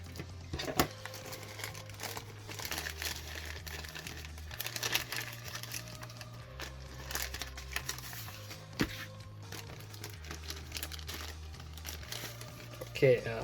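Plastic packaging of a Tomica diorama set being cut open, with close crinkling and scattered sharp clicks and taps over a low steady hum, and a brief louder rustle near the end.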